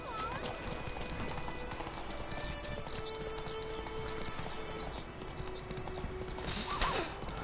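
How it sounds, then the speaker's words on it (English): Horse hooves clip-clop at a steady pace in The Witcher 3, joined by a short whinny near the end, with other game sounds in the background. "Me llevo este caballo, no es mío, pero me lo llevo."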